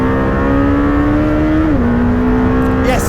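Lamborghini Temerario engine revving hard toward 9,500 rpm, a loud, close, rising howl that climbs steadily, dips briefly at a gear change, then pulls up again.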